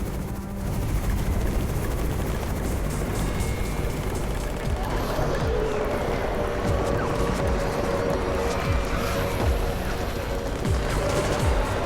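A helicopter's steady rotor drone fills the scene in the video game Undawn, mixed with scattered gunfire and distant booms, all at a constant loud level.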